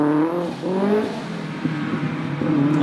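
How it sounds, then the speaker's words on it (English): A Lada rally car's engine revs hard on a night hillclimb, rising and falling through gear changes, fairly near and loud, with distinct climbing pitch sweeps. "you'll hear that unmistakable sound of that Lada as it goes out"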